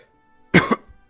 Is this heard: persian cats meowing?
no